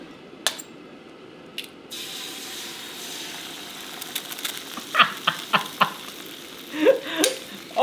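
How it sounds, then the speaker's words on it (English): An egg frying in oil inside an air fryer that actually fries: a faint hiss after a couple of early knocks, then crackling pops and spits growing busier and louder toward the end, close up, with no speech. "with this air fryer, we can actually fry an egg"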